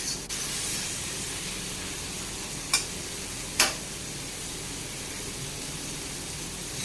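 Steady soft sizzling of nari saag greens frying in oil fills the clip, with two brief sharp spitting crackles standing out near the middle.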